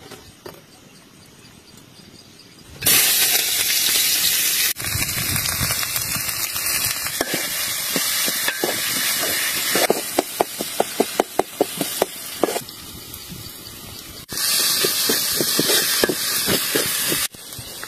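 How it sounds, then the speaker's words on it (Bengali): Onions and chillies sizzle in hot oil, a loud steady hiss that starts abruptly after a quiet moment, with crackling bursts and rhythmic stirring clicks partway through. "পেঁয়াজ আর মরিচ হচ্ছে ভাজা শেষ"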